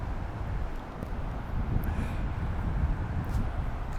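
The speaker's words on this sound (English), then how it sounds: "It's a little windy, so hopefully that's not interfering too much." Steady low wind buffeting on a lavalier microphone outdoors along the Smith River, a continuous rumbling roar that fills the whole clip at moderate level with no voice.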